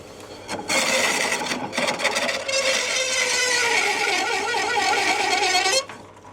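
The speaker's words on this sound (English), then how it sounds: "I'll just show you the homemade one as well in action." A homemade rotary plane shapes a wooden stretcher for a Sussex chair, giving a steady, close rasping and whirring cut that starts abruptly, runs continuously for about five seconds and then stops.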